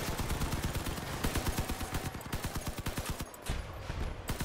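Rapid turret gunfire in the vehicle combat game Crossout, a loud continuous burst of tightly spaced shots hammering on with brief dips, with no voices over it.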